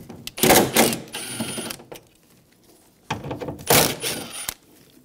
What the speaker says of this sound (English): Using a 10 millimeter socket, we're gonna remove the two bottom bolts for the motor.